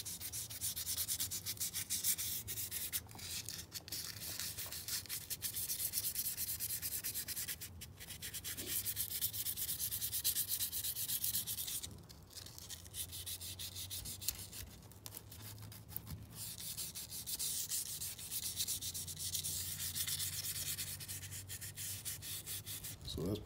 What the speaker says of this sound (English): Sanding them down.